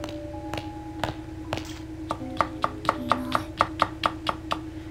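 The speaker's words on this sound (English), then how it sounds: "But I hear something chopping!" Knife chopping in the horror video game Corpse Party: a run of sharp, evenly spaced chops builds from scattered taps into a steady rhythm over a low ambient hum, fairly close and distinct.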